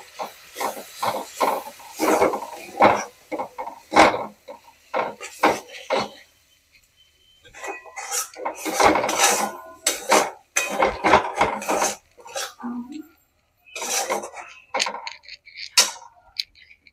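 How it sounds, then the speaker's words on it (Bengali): Spice paste for Bengali mutton kosha stirred and fried in a pan with a little hot water added, heard as close scraping and clinking of a spoon against the pan in irregular bursts, with a soft sizzle and short pauses. "মশলাটা এবার আমি কষিয়ে নেব।"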